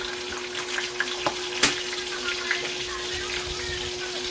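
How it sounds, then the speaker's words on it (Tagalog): Bacon frying in a pan in a home kitchen gives a steady, close crackle and sizzle with a few sharper pops, over a constant low electrical hum. "Diyan ko na lang iprito yung bacon"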